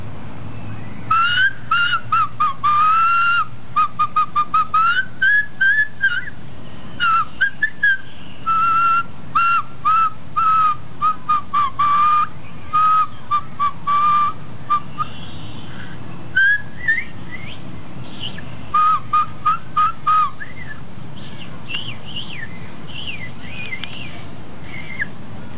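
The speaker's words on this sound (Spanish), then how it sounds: "Este silbato lítico tenía dos orificios." A high, thin whistle from an ancient two-hole stone whistle sounds again and again in short wavering notes with small pitch slides, over a steady low hiss, clear and close.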